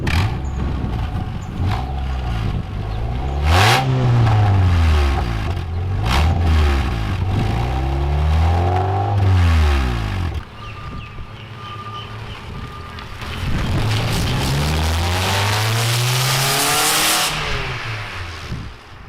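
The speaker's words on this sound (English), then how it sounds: "Now while I've got the car on, just go out the back there and get a look at the noise." A Hyundai sports car with DIY modifications idles and revs repeatedly outside, heard from behind, with loud rising and falling engine sweeps in several bursts, wind buffeting the microphone throughout.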